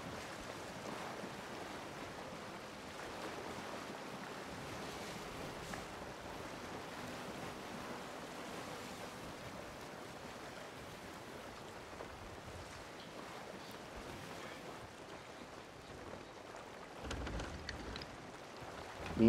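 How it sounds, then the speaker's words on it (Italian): Headwind blows over the open sea while sailing, a steady, broad rushing hiss with wave wash underneath, continuous and moderate, swelling briefly near the end, with no voices. "il vento contro"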